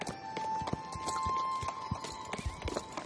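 Hooves clip-clop at a steady trot as a blue horse rides in Star Stable Online, a brisk, even rhythm over a faint background drone with a few soft extra tones.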